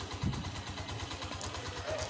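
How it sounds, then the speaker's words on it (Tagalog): Motorcycle or small vehicle engine idling while warming up in the late afternoon, a quiet steady low putter with an even rhythmic pulse and faint background noise, no talk. "yung ginagawa ko ngayon, pinapainit ko lang yung makina"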